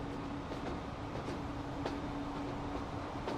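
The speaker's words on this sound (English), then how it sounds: "There's one of our freight trains." A freight train in the video game Transport Fever runs along the track with a steady, quiet rumble, and faint wheel clicks recur at intervals.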